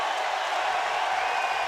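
A home crowd at a West Virginia versus Kansas football game gives a broad, steady roar of cheering, dense and continuous throughout.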